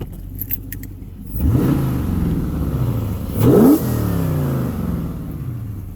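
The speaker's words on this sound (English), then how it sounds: "Go ahead and rev it up a little bit for you." A 2015 Dodge Charger Pursuit engine is revved, rising in a sweep from idle, with a sharper second rev midway, then settling back, heard close up.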